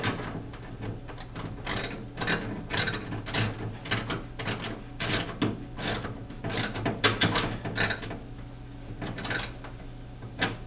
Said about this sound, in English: That one was tight. I can only fit the open end wrench on that.